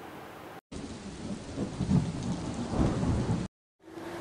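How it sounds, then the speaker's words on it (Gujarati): Heavy rain pours down in a downpour in the village of Lilchha, Gujarat, with rumbling thunder swelling over the steady roar, broken by short silent gaps at the start and end. "ચાર કલાકમાં 10 ઇંચ વરસાદ ખાબક્યો"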